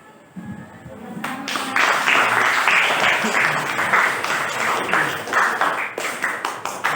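Scattered applause from a classroom audience after a group presentation, starting after a brief quiet moment and continuing at a fairly steady, modest level with soft, uneven claps.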